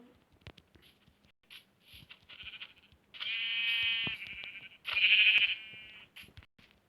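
Two drawn-out Minecraft sheep bleats, loud and close, separated by a short pause, over light clicking and tapping sounds.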